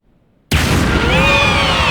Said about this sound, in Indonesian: roh di dalamnya bakal overload dan memicu ledakan fatal kayak gini